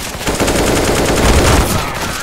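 P90 submachine gun fire in Counter-Strike: Global Offensive, a dense, loud stretch of rapid automatic shots running almost the whole time with no pause.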